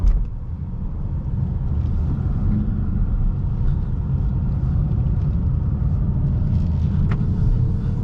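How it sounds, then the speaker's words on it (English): A 2019 Ford Mustang Bullitt with a 6-speed manual, its exhaust in normal mode, rumbles steadily at a moderate level, a low continuous drone with faint road and wind noise, no voices. "Our exhaust is in normal, so it's not too loud"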